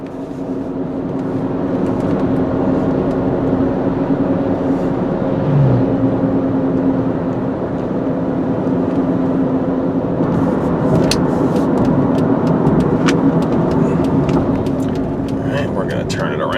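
Steady cabin rumble and road roar from a silver 2005 Saturn Vue AWD cruising at just over 60 mph, a continuous even wash of tire and wind noise with no gaps.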